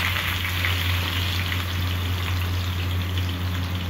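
Onion frying in hot oil for a Bengali fish curry, a steady, close hiss of sizzling with no break, over a constant low mains hum.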